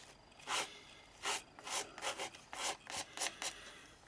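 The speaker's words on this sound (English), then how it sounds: "I'm scraping it all off" Paste scraped off a stencil while making a box: about eight rasping strokes in an uneven rhythm, each a short gritty scrape, close and fairly loud, with no talking.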